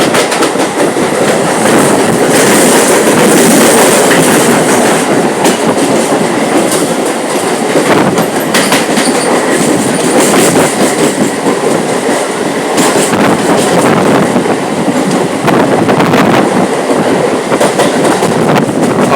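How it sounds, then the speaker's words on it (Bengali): A WAP7 electric locomotive runs light while another train arrives, a loud, steady rumble of rail wheels with rhythmic clickety-clack and faint squeal, close by and continuous, with no talking. "ওদিকে একটা WAP7 ইঞ্জিন একা একা বেরিয়ে যাচ্ছে, আর একটা ট্রেন ঢুকছে।"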